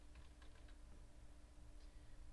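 A few quick keystrokes on a computer keyboard enter a number and then hit Enter, light clicks close by over a steady low hum with no voices.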